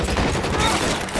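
Machine gun fire in L.A. Noire, a loud close fusillade of rapid rattling shots filling a short burst, with voices partly mixed in.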